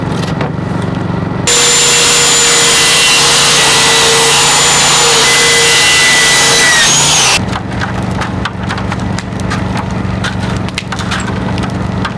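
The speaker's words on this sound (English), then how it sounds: "I should be able to just rip these 4-foot sheets of plywood in half" Circular saw ripping 4-foot plywood sheets in half in sub-zero cold while building a barn: one loud, steady, whining cut of about six seconds, with quieter outdoor rumble before and after.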